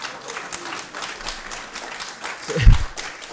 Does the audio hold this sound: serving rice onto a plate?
no